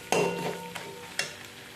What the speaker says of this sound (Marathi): एकत्र व्यवस्थित हलवून घ्यायचं आहे